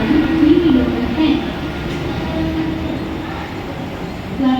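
A Mumbai local train stands at a station platform at night, its low rumble and hum filling the space while a loud public-address announcement plays over it.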